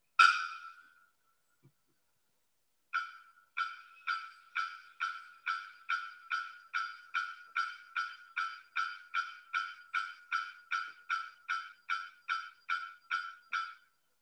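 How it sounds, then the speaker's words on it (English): A bearded bellbird's sharp, loud metallic note rings out once, then after a pause a long series of clanging, bell-like calls repeats at a steady, fast rhythm. "It's the bearded bellbird, and this is the bird that was making that sound."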